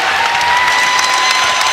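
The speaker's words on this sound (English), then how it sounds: "The appreciative crowd" Sustained applause from a basketball crowd at Gill Coliseum for Oregon State against the U.S.A. National Team, a steady dense wash of clapping filling the arena without a break.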